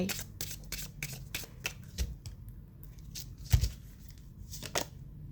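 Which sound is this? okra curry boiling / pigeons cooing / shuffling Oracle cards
shuffling Oracle cards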